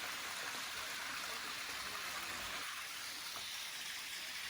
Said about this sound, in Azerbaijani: Və bu şəlalə, bu da bir bulaqdır